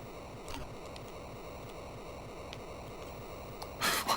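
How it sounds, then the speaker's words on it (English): Steady rushing water ambience from an Atari 2600 game, a continuous hiss with faint rhythmic pulsing throughout, ending in a sudden loud burst of noise near the end. "Why did the water volume go up?"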